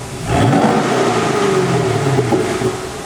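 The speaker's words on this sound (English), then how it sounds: "You give it a little gas, it goes pop pop" A 2010 Chevrolet Camaro SS with the L99 V8 on its stock exhaust revs up, holding a loud, steady engine roar for about three seconds after a quiet start.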